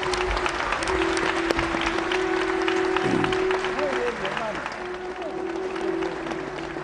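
Applause from the audience at a political congress rolls on as a thick, continuous clatter of many hands, easing slightly toward the end, with a voice and a steady hum faintly underneath.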